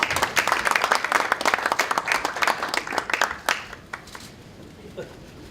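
Audience applause at a political committee's appointment ceremony, a dense burst of clapping from a seated crowd that fades out after about four seconds, leaving a few scattered claps.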